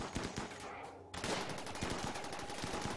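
Rapid gunfire from a RimWorld colony battle, fired at a psychic ship, sounds as a dense rattle of overlapping shots with a brief dip before the firing resumes at full intensity.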